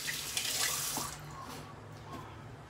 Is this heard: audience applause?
no